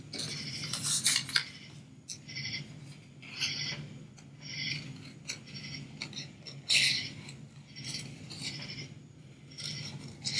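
Scissors snip paper scraps for a handmade Christmas card in quick, faint, irregular bursts of crisp cutting and rustling, heard close up with no talk.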